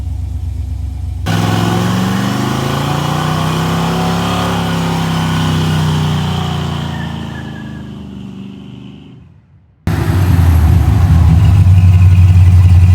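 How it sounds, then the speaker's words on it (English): A 1969 Chevy Camaro with long-tube headers and Flowmaster dumps revs hard, engine pitch climbing then sagging before cutting out, followed by a loud, rough, lumpy idle, close up. "I'd say the exhaust works pretty good"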